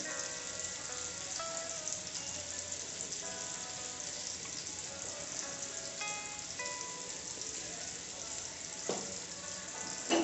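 A masala for banana stem kofta curry fries in a pan with dhania and jeera powder, giving a continuous soft sizzle and crackle under a steady background, with occasional brief clinks and no speech.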